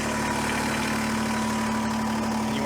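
A Kubota BX23S backhoe tractor idles close by with a steady, even mechanical hum and a constant low drone, unbroken and with no talk.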